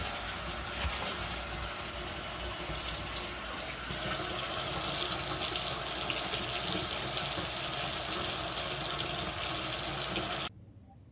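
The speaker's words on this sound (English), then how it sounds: "Making sure the water flows correctly." Water runs steadily from a kitchen sink faucet after the drain is unclogged, a continuous close splashing stream that grows louder and brighter midway before cutting off abruptly near the end.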